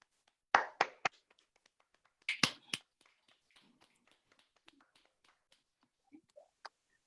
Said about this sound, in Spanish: pedimos a los que están en la sesión de Zoom que abran su micrófono para agradecer a Aldo con un aplauso.